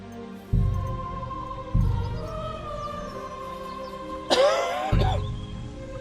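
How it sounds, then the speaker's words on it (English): A man coughs and clears his throat, a few short rough bursts spaced about a second apart and close to the mic, with game background music running underneath. "You'll have to excuse me, I've got a bit of a cough."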